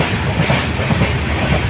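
Howrah Balurghat Express running along the rails, a loud, continuous rumble with rhythmic wheel clatter heard from on board, no voices.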